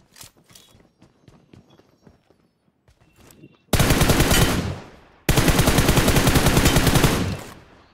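Rapid automatic gunfire in the mobile shooter BGMI, with two long loud sustained bursts following quieter scattered shots and footsteps.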